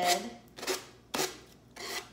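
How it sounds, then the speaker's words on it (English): Sandpaper rubbing down a wooden board with a napkin transfer on it, four distinct rasping downward strokes spaced about half a second apart, close and fairly quiet. "just take our sandpaper and gently start sanding"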